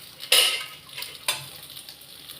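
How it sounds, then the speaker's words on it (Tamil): Dried red chillies fry in a generous amount of oil, giving two short sharp sizzling bursts with quieter crackle between them, close by and with no talk. "எண்ணெய் கொஞ்சம் நிறையா போட்டு வறுக்கணும்"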